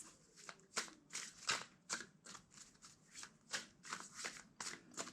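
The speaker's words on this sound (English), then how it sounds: "Two more shuffles." Rapid, crisp riffles and flicks of a deck of tarot cards being shuffled, repeated in quick bursts, close and fairly quiet, with no talking.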